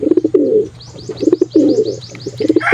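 Young pigeons from a breeder's loft give repeated soft, throaty coos in quick bursts, close by. Thin higher chirps and squeaks are mixed in, with brief pauses between phrases.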